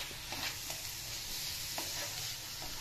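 Sweet jaggery modak filling is stirred in a pan with milk, giving soft scraping strokes over a steady low sizzle, close and fairly quiet.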